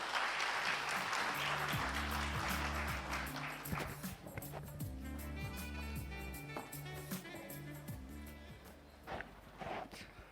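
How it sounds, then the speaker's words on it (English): An audience at a formal event applauds to welcome the Director General of the Sports Authority of India, a bright burst of clapping that thins out over several seconds beneath background music. "Let's give a huge round of applause to Sandip Pradhan ji."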